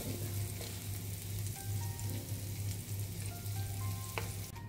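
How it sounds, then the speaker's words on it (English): Garlic and chili fry in oil in a pan, a soft, even hiss over a constant low hum, gently stirred, with a faint clink near the end. "You're going to stir it very gently. We don't want the garlic to get browned."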